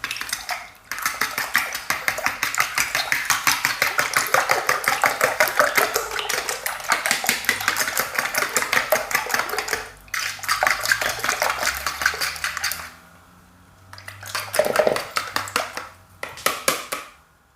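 Eggs and a splash of milk beaten together in a bowl, a fast steady run of whisk or fork strokes clicking against the bowl, close and loud, pausing briefly before resuming in shorter bursts.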